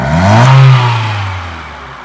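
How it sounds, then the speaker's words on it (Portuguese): A car engine revs hard to a loud peak, then the throttle is released and the revs fall away smoothly to a lower drone, close by and with no talk. "quando aceleramos forte e tiramos o pé do acelerador"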